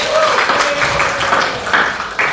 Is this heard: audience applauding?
yes